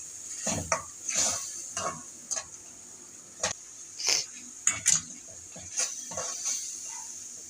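Masala mixed with yogurt sizzles in a hot pan while a spoon stirs and scrapes it in irregular strokes, with close metallic clinks against the pan over a steady frying hiss, for masala bhindi (okra).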